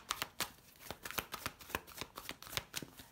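Tarot cards are riffled and shuffled in a quick series of crisp, papery snaps and flicks, close and fairly soft, with no talking.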